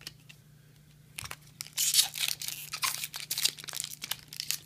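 Opening a Magic: The Gathering Dragon's Maze fat pack from the Return to Ravnica block produces sharp, close tearing and crinkling of foil wrapper, starting quietly and growing into a busy run of rips and crunches.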